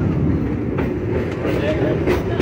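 Frisco train at Silver Dollar City theme park rumbling steadily along its rails, a continuous close, loud onboard rolling noise with faint rhythmic clatter throughout.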